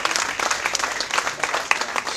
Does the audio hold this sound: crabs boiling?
no